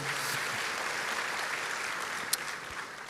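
A church congregation claps together in a sustained, even wash of applause, with a single sharper clap standing out near the end.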